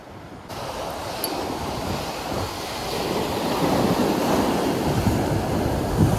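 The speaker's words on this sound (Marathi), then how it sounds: "आता वारा भरपूर आहे, कदाचित तुम्हाला आवाज नाही येणार." Strong wind roars and waves surge at sea off the Konkan coast during a fishing outing, a steady, dense rush that builds slightly louder over the clip, with no voices.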